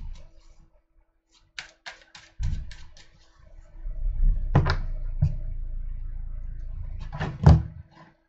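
Tarot cards are shuffled by hand during a full-moon reading. Close, quiet flicks, soft rustles and a few sharper riffling bursts are heard with small taps between them, and no one speaks.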